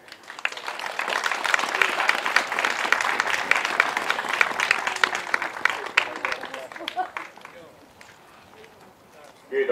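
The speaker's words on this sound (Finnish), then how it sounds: "No niin, ja vielä sitten aplodit heille." A crowd applauds at a prize ceremony for a jokkis amateur car racing event in Heinola, with dense clapping that peaks and then thins out toward the end, while speech is heard at points.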